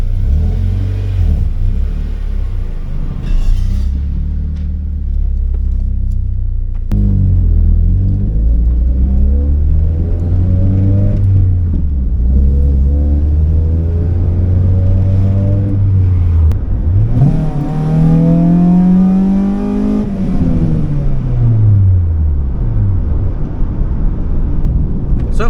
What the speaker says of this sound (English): let it warm up, and if it still looks good, I'll take it out for a drive